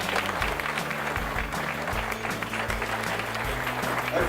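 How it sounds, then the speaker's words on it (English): A steady wash of audience applause at an anti-trafficking charity cycle challenge event, dense continuous clapping from a crowd lasting throughout, with a low musical hum running underneath. "A big round of applause."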